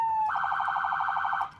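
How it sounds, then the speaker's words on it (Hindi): Police car siren sounding from a patrol vehicle's controls, a brief steady tone jumping into a rapid warbling wail that holds loud and close, then cuts off. "उसके बाद आपका ये सायरन्स है यहाँ पे"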